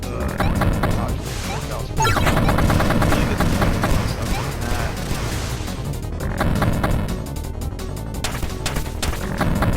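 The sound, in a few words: gunfire hitting the boss in video game Jet Set Knights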